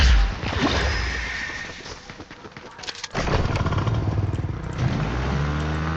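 Motorbike engine in Fortnite, a steady loud revving drone that dips around the third second and then surges back, continuing throughout with a voice talking over it.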